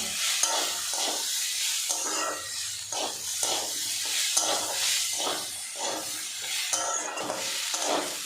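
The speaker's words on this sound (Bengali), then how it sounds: "আদা দিয়েছি, সবজির সাথে একটু নাড়াচাড়া করে নেব" Ginger paste being stirred with papaya and vegetables in a frying pan, a steady sizzle broken by rhythmic scraping strokes of a spatula, close and moderately loud, with no talking.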